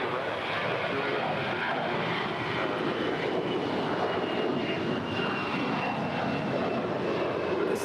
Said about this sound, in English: It's a 21-year-old Airbus A321.